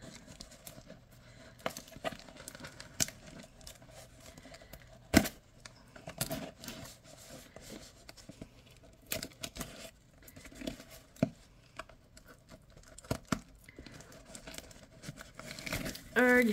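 Paper packaging crinkling and tearing while a package is opened with a small knife, a series of sharp, close rustles and crackles in irregular bursts, with some talking in between.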